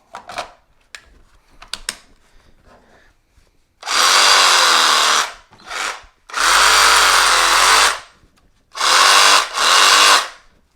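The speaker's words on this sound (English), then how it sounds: "And now you can put it into another tool like this sawzall." A DeWalt sawzall runs on a Milwaukee M18 battery through an adapter, starting with a few light clicks and handling noises, then three loud close bursts of whirring motor, each lasting one to two seconds.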